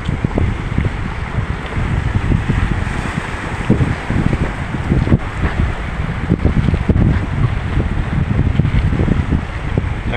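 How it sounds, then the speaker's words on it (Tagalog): Strong waves and gusting wind at Bulan fish port in Sorsogon during the southwest monsoon, a steady loud rush of wind buffeting the microphone over churning surf, with no voices. "Malalakas na alon."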